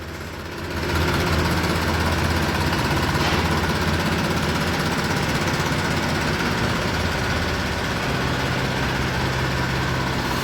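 A tractor engine runs steadily nearby with a low, throbbing rumble that starts up and holds constant throughout.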